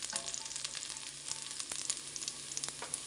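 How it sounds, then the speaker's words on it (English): Garlic frying in a pan, a steady bright sizzle with crackles and the occasional scrape of stirring, close and alone. "Going to fry the garlic."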